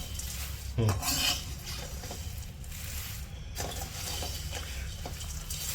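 Puffed rice (mamra) is stirred and roasted in a pan with peanuts, curry leaves, salt and Kashmiri red chili powder. A spoon scrapes and rattles through the grains in quick uneven strokes, with a louder metallic clank early on.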